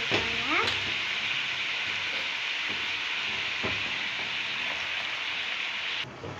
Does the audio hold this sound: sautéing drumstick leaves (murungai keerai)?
yes